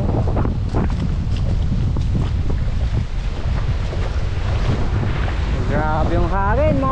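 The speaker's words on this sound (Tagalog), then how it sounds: "Grabe yung hangin mga kabaka." Strong typhoon wind buffets the microphone with a constant roar and rumble, and a voice speaks briefly near the end.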